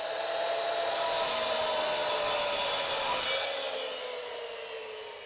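Power saw trimming the top of a 1.5-inch square Cocobolo wooden axe handle, a steady loud whining cut that holds for about three seconds, then eases off as the blade finishes.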